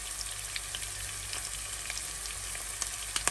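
A teaspoon of whole cumin and half a teaspoon of crushed chili sizzle in hot oil, a steady, close frying hiss with tiny pops scattered throughout.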